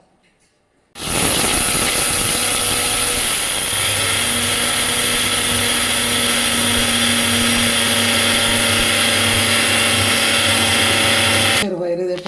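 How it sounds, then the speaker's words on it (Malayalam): An electric mixer grinder powders roasted split green gram dal, starting abruptly after a brief quiet and whirring loud and steady with a high motor whine until it cuts off near the end. "മിക്സിയിൽ പൊടിച്ച് സോഫ്റ്റ് പൊടിയാക്കി"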